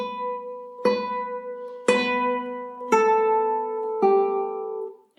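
A slow melody on classical nylon-string guitar, plucked using only free strokes: five separate notes, each ringing out and decaying softly, played alone.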